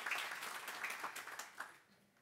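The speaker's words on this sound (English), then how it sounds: "We'll give them a round of applause." Audience applause for emerging scholars awardees at an academic conference opening session, a brief soft burst of clapping in a room that fades out over a couple of seconds.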